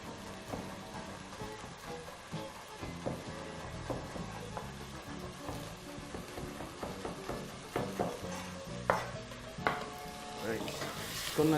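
Chicken for Ethiopian doro wot sizzles and fries in a pan while being stirred continuously, with steady crackling and repeated scraping and clinking of the utensil against the pan throughout.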